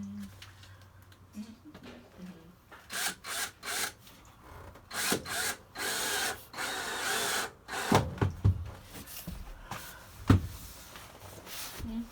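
Bursts of an electric drill whirring in short runs, loud and close, with brief pauses and some handling noise between them.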